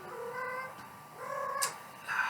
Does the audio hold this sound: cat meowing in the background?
yes